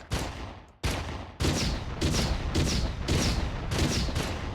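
A turret machine gun firing in a PlayStation game, loud, close bursts that start and stop a few times before settling into sustained rapid fire.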